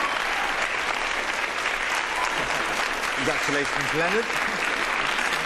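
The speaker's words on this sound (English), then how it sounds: "Round of applause for our most vigilant student," Steady applause fills a school awards assembly as students and staff clap for a student, with a voice speaking briefly over the clapping midway through.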